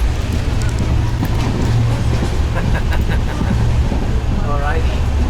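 Indian passenger train rolling along, a steady loud low rumble of carriages and wheels filling the whole stretch, with people talking and calling out over it now and then.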